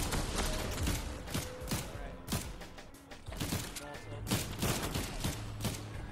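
Rapid bursts of video game gunfire crackle in dense, overlapping volleys, with thuds and mechanical clanks mixed in, fairly loud throughout with brief lulls between bursts.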